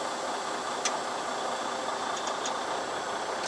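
Semi tractor engine idling steadily in low gear as the clutch eases off, a continuous close rumble with faint ticks and no talk.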